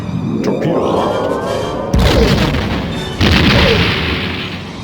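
In the Star Trek: The Next Generation – A Final Unity video game, photon torpedoes fire at a Romulan warbird, giving a sustained rumble followed by two sudden loud booming explosions that each trail off.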